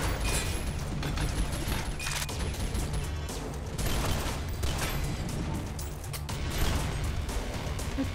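An automated turret lets off sustained, rapid gunfire in the top-down shooter Synthetik. The mechanical shots keep up a steady, dense stream at moderate loudness, with small pops and clanks mixed in.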